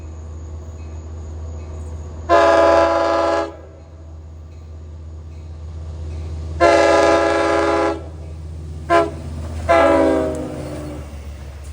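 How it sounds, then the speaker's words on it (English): Several loud LIRR train horn blasts on the Montauk Branch east of Babylon sound over a low rumble: two long sustained blasts, then a short toot and another blast, fairly close. "that was definitely the best of the 3 horns that you will hear"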